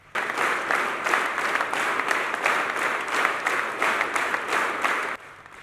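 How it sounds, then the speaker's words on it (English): A large crowd applauding steadily during a record-setting longest-applause event in Uganda, dense clapping with a gentle rhythmic swell, holding at one level before dropping away at the end. "Participants engaged in a spirited clapping at varying intensities throughout the duration of the record-breaking event."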